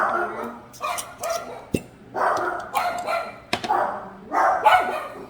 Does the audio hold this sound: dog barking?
yes